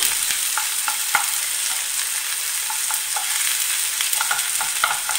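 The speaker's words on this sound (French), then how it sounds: "Je la laisse revenir dans l'huile d'olive." Shallots sizzle in olive oil for a dipping sauce served with Moroccan salads, a loud, dense and continuous crackling hiss with occasional small pops and spoon scrapes and no talk over it.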